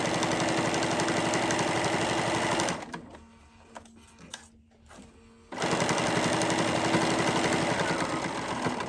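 A sewing machine stitches a seam on a mermaid-tail blanket in fast, even bursts, runs loudly for a few seconds, pauses briefly with faint handling noises, then starts stitching again at the same steady pace.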